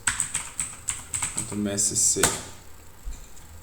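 Keys clatter on a computer keyboard in quick irregular bursts close to the microphone, with a few heavier taps and a short clunk midway, alone without speech.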